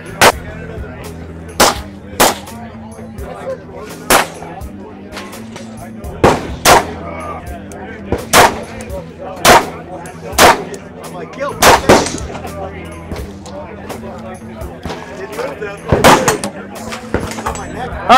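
A 1911 pistol test fired at Shot Show 2024, over a dozen loud sharp gunshots in irregular spacing, some paired in quick succession, with people talking between shots.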